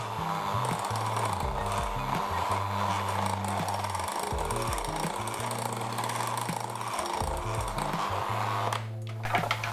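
An electric mixer beats the rest of the flour into a batter, a loud continuous motor whine whose pitch shifts up and down for about nine seconds before cutting out near the end.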